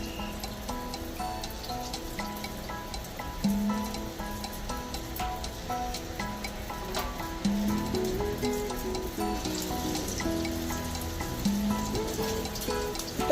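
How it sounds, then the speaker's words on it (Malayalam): Egg-dipped eggplant slices, for a Filipino tortang talong omelette, frying in hot oil with a steady crackling sizzle that carries through the whole stretch, with occasional clinks and a louder surge midway. "അപ്പോൾ ഇതിൽ നമ്മൾ നല്ലോണം ഡിപ്പ് ചെയ്ത് ഈ എണ്ണയിലോട്ടേക്ക് ഇട്ട് കൊടുക്കാം"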